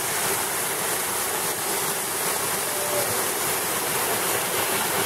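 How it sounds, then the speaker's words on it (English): Steady, full roar of rushing water from a series of cascading waterfalls over clear emerald pools at Mil Cascadas in Guerrero, Mexico, continuous and close with no pauses and no voices. "And it's a series of waterfalls."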